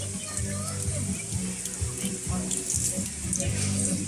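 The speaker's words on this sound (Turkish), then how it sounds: "Aç bakayım suyu." Water runs steadily from an opened tap at a market water mill, a continuous splashing rush with low rumbling beneath it throughout.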